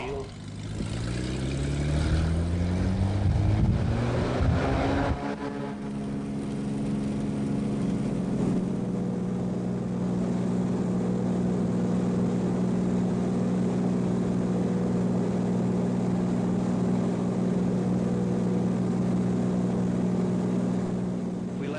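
A propeller airplane in flight over the Canadian Shield drones steadily and loudly from inside the cabin, with a sweeping rise in pitch at first that then settles into an even, sustained hum.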